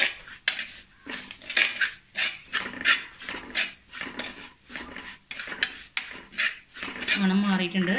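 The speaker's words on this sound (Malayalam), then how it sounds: "നന്നായിട്ട് ഇളക്കി കൊടുക്കുക." Chili and turmeric powder are stirred in a pan during preparation of a mullet fish curry, producing rapid rhythmic metallic scraping and clinking strokes, close and loud, continuing for several seconds with no talking.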